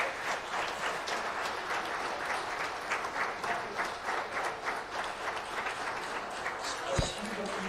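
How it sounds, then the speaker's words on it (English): A seminar audience in Golitsyno gives a sustained round of applause for an expert, with even, moderately loud clapping from a room of listeners and a brief thump near the end. "Let us give a round of applause to our expert."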